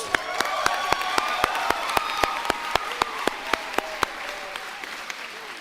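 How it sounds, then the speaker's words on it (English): Audience applause at the Tulalip Heritage High School commencement, a steady dense wash of many hands clapping with sharp individual claps standing out in rhythm, fairly loud and sustained without pause. "Let's just go ahead and give him one more round of applause."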